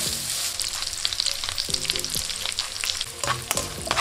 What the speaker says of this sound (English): You want to brown the bacon slowly until it starts to release oil.